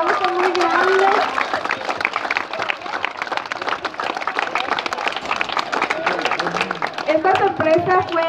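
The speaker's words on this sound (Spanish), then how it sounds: "Vamos a darle un fuerte aplauso, un aplauso muy grande" Loud, sustained applause from a school audience for a sixth-grade boy, dense clapping mixed with cheering voices and a voice speaking over the noise near the start and end.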